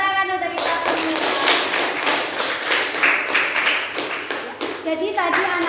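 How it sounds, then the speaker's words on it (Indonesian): A class of primary school children clap their hands together in a classroom, a dense run of quick, loud claps lasting several seconds, with a voice speaking briefly at the start and end. "Oke, tepuk tangan untuk kita semua."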